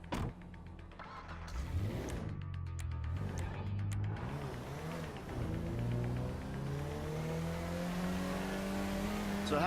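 A car in GTA 5 starts up and pulls away, its engine revving and climbing in pitch through several gear changes, close and prominent with steady acceleration toward the end.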